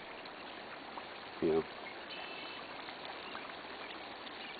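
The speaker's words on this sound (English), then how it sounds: "it's really bubbling out here" Natural gas bubbling steadily out of a wetland seep, a continuous watery gurgle and trickle, with a brief spoken word cutting in and a faint motor-like hum underneath.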